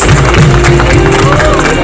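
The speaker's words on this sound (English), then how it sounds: "let's give the cast and crew, the whole team standing over here, a very big round of applause" A large crowd applauding steadily for a cast and crew at a trailer launch event, dense clapping with a few cheers mixed in, filling a big room throughout.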